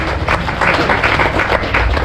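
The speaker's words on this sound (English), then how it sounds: "big round of applause for Beast" A small crowd on an airboat swamp tour gives a loud, steady round of applause after an alligator show, claps blending into a dense wash close by.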